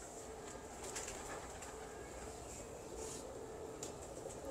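A Teddy pigeon coos softly in a breeding loft, low murmuring calls repeating under a constant hiss of background noise, faint and somewhat distant.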